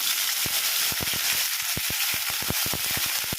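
Fennel, cinnamon, cloves, bay leaf, curry leaves and mint crackle in a tablespoon of hot oil in a kadai, a dense close sizzle studded with many quick sharp pops.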